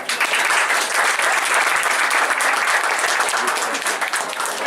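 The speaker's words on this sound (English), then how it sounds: "a round of applause, please" Steady audience applause at a community awards event, a dense even patter of many hands clapping throughout, loud and sustained.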